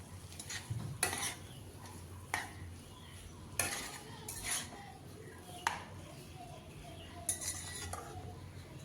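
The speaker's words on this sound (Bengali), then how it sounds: "আর শাকগুলো মশলার সঙ্গে খুব ভালো করে মিশিয়ে নিতে হবে।" Malabar spinach greens and spices are stirred in a pan with a utensil, a series of scraping clinks and scrapes over a quiet sizzle, each stroke close and distinct.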